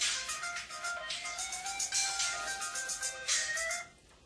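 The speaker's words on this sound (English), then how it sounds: "My phone's ringing." A telephone ringtone trills in a repeated electronic pattern, fairly close and steady, then cuts off just before the end, heard in a real estate school office.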